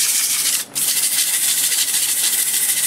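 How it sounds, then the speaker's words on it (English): Steady, hissing abrasive rubbing of sandpaper on a turned spalted Norway maple bowl, continuous and close, with one brief break near the start. "This wood was pretty rough, but I think I can get it sanded."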